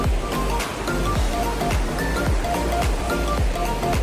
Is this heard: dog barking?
no